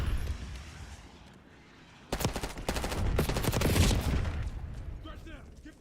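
Archangel weapon firing in the shooter game Doom The Dark Ages, a loud burst of rapid heavy shots starting abruptly and rattling on for a couple of seconds over background game noise, with a radio-style voice talking before it.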